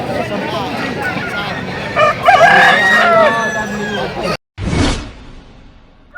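Roosters crow at an outdoor chicken market in Dantewada, with clucking and market noise mixed under speech, a loud crow rising midway before a brief drop to silence and a whooshing rustle.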